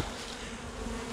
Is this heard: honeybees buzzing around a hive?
yes